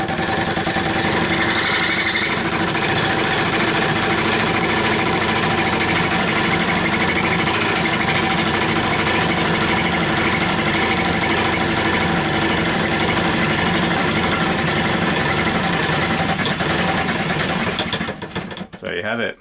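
Hobbies treadle fretsaw cutting wood, a steady mechanical whirr and rapid blade chatter running continuously and fairly loud, pedalled without a break before it slows and stops near the end.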